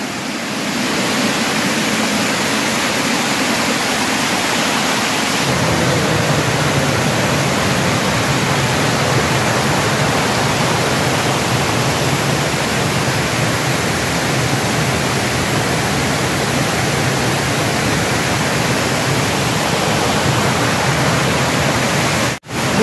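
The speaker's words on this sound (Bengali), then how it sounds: "মুরগুমা ঝর্ণা" Water rushing over Murguma waterfall near Murguma Dam in Purulia, just after rain, a loud continuous close roar of falling water that fills the whole stretch without pause.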